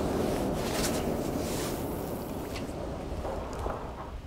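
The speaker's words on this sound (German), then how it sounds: "But the wind is more heavy." Wind blows steadily over an open fishing boat on the water, a constant broad rush buffeting close to the microphone with faint clatter on top and no talk.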